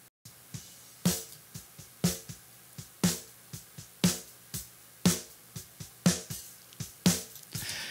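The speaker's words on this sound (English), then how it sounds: "So the snare drum feels a bit mushy, but blended in with the original snare drum" A dry snare drum is struck about once per second, with crisp isolated hits, then a fast-attack parallel-compressed signal is blended in, giving a beefier, more aggressive crack on each quiet, close hit, with no voices.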